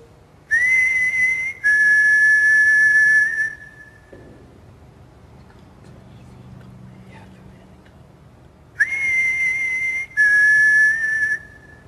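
Two pairs of sharp, steady whistle blasts ring out inside the Morecambe Winter Gardens, one pair at the start and one near the end, with a quiet low murmur of voices in the gap between.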